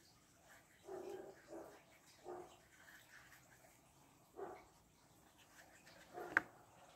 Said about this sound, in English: Some dogs barking there.